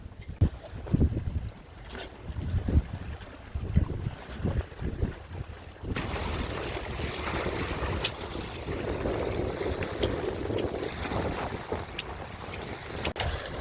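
Sailboat under way on autopilot at sea in rough weather, with steady wind roar and water wash against the hull; calmer creaking and splashes at first, then a louder continuous rush of wind and waves, no voices.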